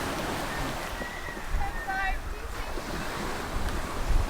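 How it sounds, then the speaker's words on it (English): Ocean waves surge onto a windy beach, a rough continuous wash of surf mixed with buffeting wind noise on the microphone, with a brief faint squeal partway through and no clear talk. "Wow, the water's coming in close, Maria."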